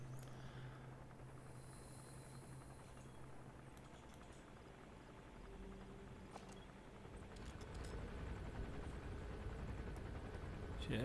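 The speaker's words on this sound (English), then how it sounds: "Just a helicopter, just a friendly helicopter." A helicopter in Metal Gear Solid V: The Phantom Pain drones steadily in the distance, its low rumble growing a little louder toward the end, with faint talk now and then.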